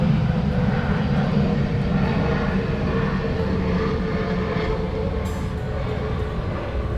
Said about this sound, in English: Airplanes going overhead.